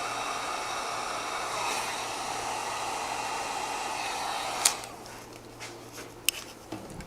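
A heat gun blows steadily on heat shrink tubing during car radio wiring, a continuous airy whoosh that cuts off after a few seconds, followed by a few faint clicks and handling noises.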